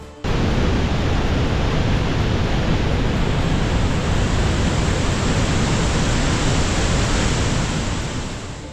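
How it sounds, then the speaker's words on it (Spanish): A roaring waterfall with a 33-metre drop in Yellowstone, a dense, steady, loud rush of falling water heard up close and alone, fading slightly at the end. "El agua ruge y retumba con una fuerza descomunal."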